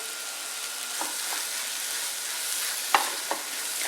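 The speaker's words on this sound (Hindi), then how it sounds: "अब अंडे को जो है अच्छी तरह से भून लेते हैं ताकि जो अंडे की स्मेल है वो उसके अंदर ना रहे।" Eggs stir-frying in a pan, a soft, even sizzle with a couple of light spatula taps against the metal.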